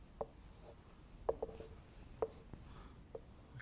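Pen or pencil strokes on paper while a tan graph is drawn by hand: a handful of faint, brief scratches and taps spaced irregularly against quiet room tone.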